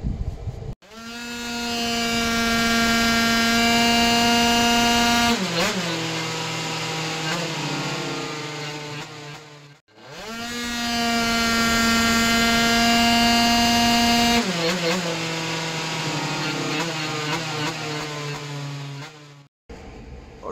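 A Minarelli horizontal 100cc moped engine with a Double 2Fast setup on a dyno test bench screams through two long rising full-throttle runs. Each run climbs to a sustained high whine and then cuts off sharply, close and very loud, with no talk.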